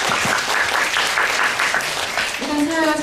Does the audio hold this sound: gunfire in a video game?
no